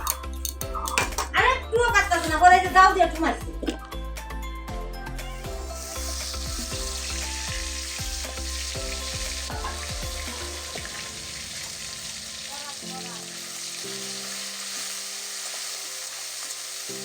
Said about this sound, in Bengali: কড়াইয়ে দেব তেল দিয়ে ভালো করে এখন রান্না করব